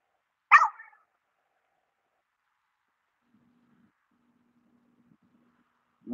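A black dog, one of a bulldog line, gives a single short bark at the start, followed by near silence and a faint sound at the end.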